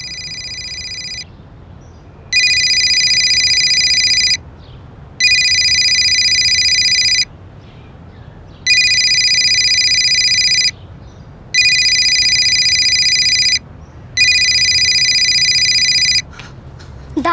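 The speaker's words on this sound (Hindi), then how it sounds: "मम्मी की फोन की रिंग तो अंदर से आ रही है।" Inside a home a mobile phone rings loudly, repeating electronic ringtone bursts of about two seconds each separated by short pauses, six cycles in a row with no voices.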